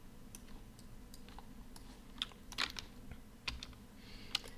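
Computer keyboard keys clicked while working in Maya, a scattered run of light, fairly quiet taps with a few sharper presses, over a low steady room hum.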